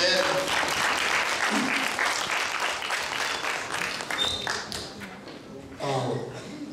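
Audience applause for a lecture speaker, Dr. Shin Kyung-chul, at a talk about robots: steady, dense clapping from a crowd filling the room, with voices mixed in and a brief swell near the end.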